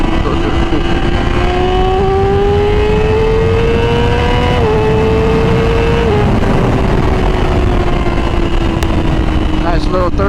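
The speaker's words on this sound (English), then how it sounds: "Nice little third gear pull." A motorcycle with a carbon fiber body kit and a superstock-upgraded, tuned engine pulls hard through third gear, its loud, close engine note climbing steadily in pitch under heavy wind rush.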